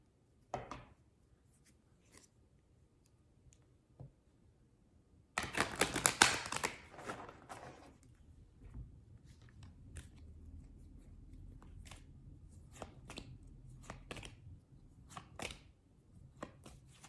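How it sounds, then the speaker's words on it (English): A burst of crisp riffling as a deck of angel cards is shuffled, followed by lighter scattered taps and card snaps in a quiet room. "let's just do a little bit of shuffling on these angel cards."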